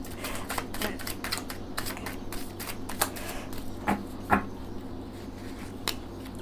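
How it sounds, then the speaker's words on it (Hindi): A deck of tarot cards is shuffled close by, with a rapid run of crisp flicks and riffles that carries on steadily and includes a few sharper snaps. "वापस एक बार शफल करती है।"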